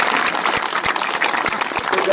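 A crowd at a public event claps in a dense, steady patter of many hands, moderately loud and continuous, with voices mixed in beneath.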